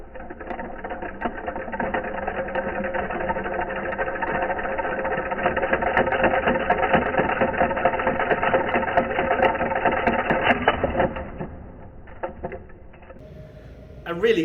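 A small DC electric motor spins steadily with a buzzing, whirring drone that holds for about ten seconds before winding down, close up, with a voice talking over it at times.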